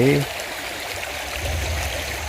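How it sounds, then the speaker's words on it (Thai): A river rushes and flows in a steady, continuous wash at Mueang Khong, Chiang Dao, Chiang Mai, Thailand, with a short tonal sound right at the start. "ก็จะมีน้ำไหล"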